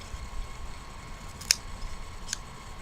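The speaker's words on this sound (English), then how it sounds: "I'm going to go ahead and give this a cut" A cigar cutter snips the cap of a Kristoff Ligero Maduro Matador toro cigar, one sharp close click over quiet room hiss, followed by a fainter second click a moment later.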